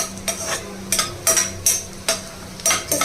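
Original groundnut oil froths and sizzles in a pan, a soft crackling bed broken by several short bright hisses and stirring scrapes, close by and without speech.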